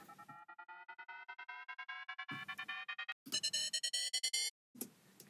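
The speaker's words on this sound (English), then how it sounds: "with the white noise, I've got like one that's a little bit more effecty" Synth white noise uplifter effect with a triplet transgate, chopping into rapid rhythmic pulses that climb in pitch over several seconds, broken by short gaps and brief bursts, loud and alone with no voices.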